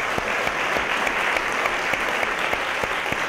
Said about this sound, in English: Folks, doesn't that deserve a round of applause?